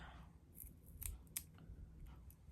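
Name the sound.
non-stick scissors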